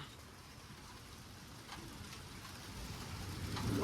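Rain on a car during a storm in Hannibal, Missouri, a steady broadband patter with occasional drop hits that grows gradually louder and heavier toward the end, with no talking.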